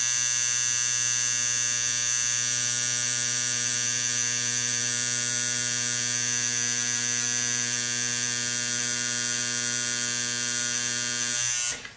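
A tattoo machine buzzes close by in a continuous, even electric drone while a rose tattoo is practiced, cutting off abruptly just before the end.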